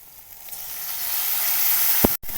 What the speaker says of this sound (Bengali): সব মশলাগুলো একসঙ্গে কষিয়ে নেবো